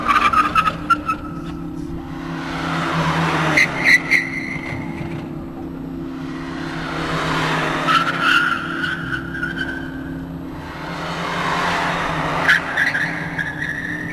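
Ford Focus tires squeal and skid repeatedly through a handling test, the screech rising and fading in roughly three long sweeps while the engine drones underneath.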